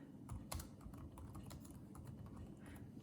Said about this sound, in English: If I was typing correctly